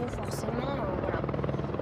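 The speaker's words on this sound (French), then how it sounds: "Un hélicoptère de la gendarmerie vient stationner quelques instants près du champ." A gendarmerie helicopter hovers near a field, its rotor beating in a steady, fast pulse at moderate distance while people talk over it.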